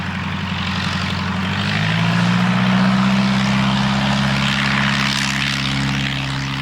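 A de Havilland Tiger Moth biplane's propeller engine drones steadily and loudly, its pitch rising a little partway through as it runs on without any voices.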